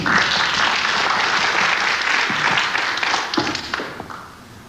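At the Casino de Deauville, a crowd watching a 1989 pool final applauds a shot. The clapping is loud and sustained, then thins out and fades toward the end.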